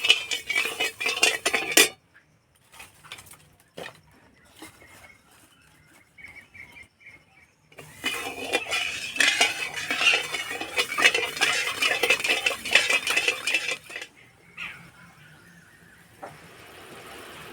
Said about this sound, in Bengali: আর দেব এক কোটো জল চিনিটা এইভাবে নিয়ে গলিয়ে নেবো